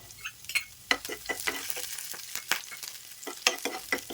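Chopped onions fry with garlic in a hot pan, sizzling steadily while a spatula scrapes and stirs in irregular strokes. The frying is close, with no talk over it.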